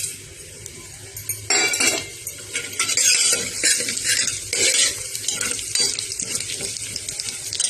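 Mustard seeds, cumin, urad dal and pepper frying in hot oil and ghee, giving a loud, steady crackling sizzle with sputtering bursts and occasional utensil clinks throughout, with no talking.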